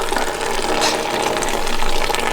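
Fluid drains from the disconnected headlight washer hose of a Porsche 991.2 GT3 RS, a steady, close trickling and gurgling with no talk over it.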